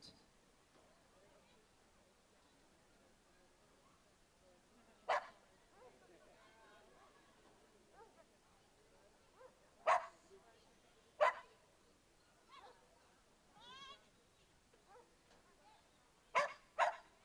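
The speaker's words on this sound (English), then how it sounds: "Funky Monkey is a mixed breed dog." A mixed-breed dog at an agility competition gives a few sharp barks in scattered bursts, some in quick pairs, over a quiet background with faint distant chatter.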